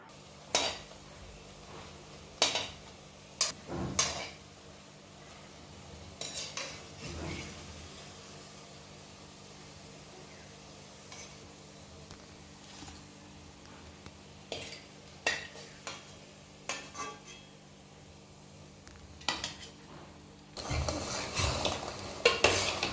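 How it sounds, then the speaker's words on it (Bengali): Sweet potato langcha fry until brown in a pan, giving a quiet, steady sizzle with scattered spoon scrapes and utensil clinks, and a denser clatter near the end. No one speaks. "এইভাবে প্রতিটা ল্যাংচাগুলোকে ভেজে নিতে হবে।"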